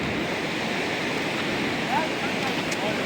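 Sea waves washing onto a beach make a steady, broadband roar with no clear breaks between them, and a little wind noise sits underneath.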